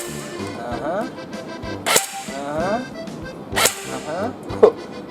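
Two sharp snapping shots about two seconds apart stand out over ongoing chatter, with a smaller click near the end, from an SRC SR5A4 MP5-style airsoft gun fired single-shot.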